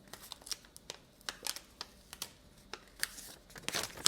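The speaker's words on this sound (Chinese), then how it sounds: "一次性封贴撕开就无法还原了" The one-time seal on a Xiaomi Mix Fold 2 box is torn open, making a quick series of soft, close crinkling rips and tears, faint and irregular, with a busier flurry toward the end.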